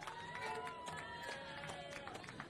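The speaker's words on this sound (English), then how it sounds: "How about a round of applause?" A crowd at an off-road short course race podium cheers and shouts faintly from a distance, a busy murmur with scattered whoops and some talk mixed in.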